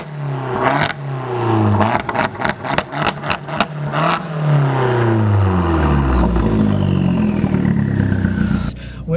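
A 2013 Fiat 500 Abarth with a manual gearbox and an MPX aftermarket exhaust revs hard and loud close by, with sharp throttle blips, then a long sweeping climb and fall in engine pitch.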